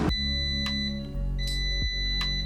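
A COSORI Smart Air Fryer XL 5.8QT signals preheat done with a steady high electronic beep tone sounding continuously over a low background hum, clear and close.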